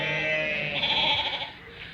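A faint, wavering bleat from a sheep, short and somewhat distant, against a light outdoor background.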